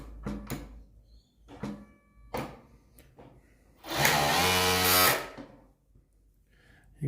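An industrial overlocker stitching fleece fabric runs in one loud whirring burst of about a second, preceded and followed by quieter mechanical clicks and knocks.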